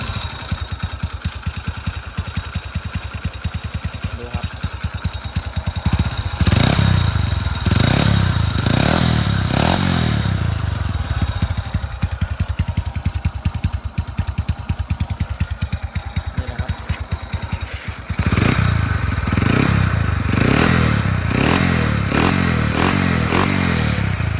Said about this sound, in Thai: เสียงท่อก็ประมาณนี้นะครับ